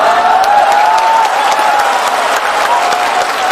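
Dense, loud applause from a large crowd at an outdoor religious gathering, steady clapping sustained throughout with a faint murmur of voices underneath.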